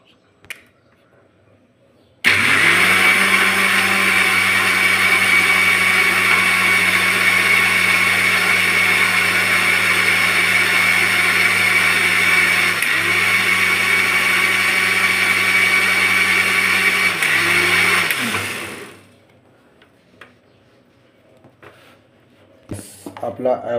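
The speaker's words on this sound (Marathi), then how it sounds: "आता हा मिक्सरमध्ये" A kitchen mixer grinder blends an avocado smoothie sweetened with honey, a loud, steady motor whir running continuously for about sixteen seconds before cutting off, with faint handling sounds before and after.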